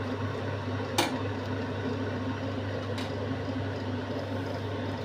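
Milk with lentil dumplings (bori) simmering gently over a low gas flame, giving a soft, steady bubbling hiss close by, broken by a couple of brief clicks.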